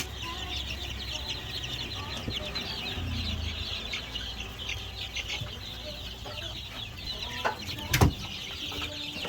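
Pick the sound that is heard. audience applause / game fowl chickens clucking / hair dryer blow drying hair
game fowl chickens clucking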